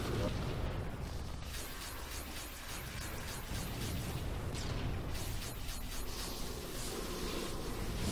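Shooting and explosions in the Halo 2 video game. A steady barrage of booms and repeated gunfire thumps runs under continuous loud game noise, with a voice talking over parts of it.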